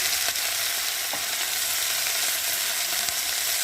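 Bay leaves, whole cumin, and ginger and cumin paste fry in hot oil with a steady, close hiss and crackle, broken by a few faint clicks, with no voices.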